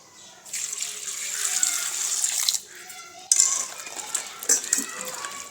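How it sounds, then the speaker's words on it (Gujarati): Pieces of moringa drumstick being rinsed by hand in water in a home kitchen, with steady splashing and trickling that pauses briefly midway and then resumes, close and moderately loud. "તો આ સરગવાને આપણે પહેલાં તો ધોઈ લઈશું"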